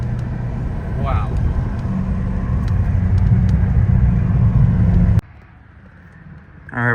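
BMW F10 M5 with methanol injection running on a dyno, a loud, steady low engine roar that cuts off abruptly, then a quieter hum before a brief rising whine at the end.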